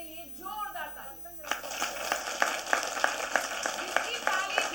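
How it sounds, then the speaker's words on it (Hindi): A gathered crowd at a Makar Sankranti (Uttarayan) festival gathering in Atladara, Vadodara bursts into loud, sustained clapping after a short stretch of speech, with dense sharp claps continuing steadily to the end. "अपने लिए जोरदार ताली।"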